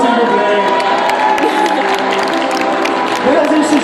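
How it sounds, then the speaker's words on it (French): An audience at a horse show claps and cheers steadily throughout, a dense wash of applause with scattered whoops as an act arrives in the arena. "Applaudissements, s'il vous plaît."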